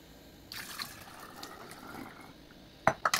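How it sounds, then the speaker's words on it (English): Rice water poured from one vessel into a container, a soft steady trickle running for a couple of seconds, then a few sharper splashes and clunks at the end, close and fairly quiet. "and then you decant it into a container"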